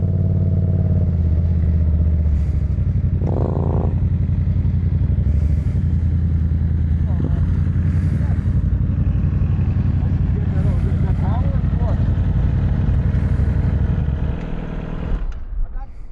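Yamaha MT-07 and Suzuki GSX-S750 motorcycles doing wheelies in a parking lot, engines droning steadily and loudly with brief revving swells, while people talk nearby over the noise before it fades at the end.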